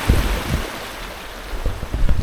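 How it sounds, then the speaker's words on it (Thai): Sea waves breaking against rocks on the coast near Ko Samet, Thailand, with broad wind-blown surf noise and a few low thumping surges near the start and end. "โอ้โหคลื่นกระทบหินน่ะมันเป็นอะไรที่แบบผ่อนคลายมาก"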